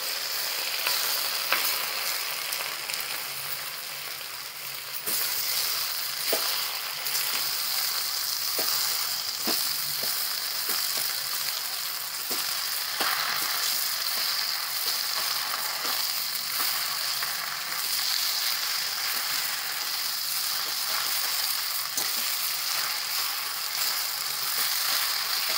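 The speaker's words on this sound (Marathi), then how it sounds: "असं झाकण वगैरे नाही ठेवायचं, असंच आपल्याला परतून शिजवायची भाजी।" Chuchu wild greens are stir-fried uncovered in an open pan, with a dense continuous sizzle and regular light taps and scrapes of a spatula throughout.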